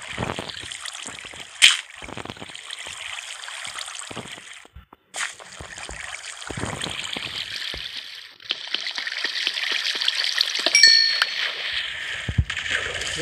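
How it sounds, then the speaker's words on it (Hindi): Water splashes and gushes in Minecraft gameplay as a hissing, rushing wash that swells and drops, broken by a few sharp clicks and dings, with no talk. "पानी की बौछारी हो गई थी"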